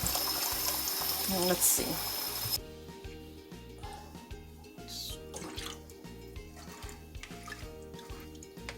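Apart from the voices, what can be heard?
rinsing brown rice with water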